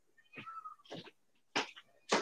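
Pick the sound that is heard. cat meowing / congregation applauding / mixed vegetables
cat meowing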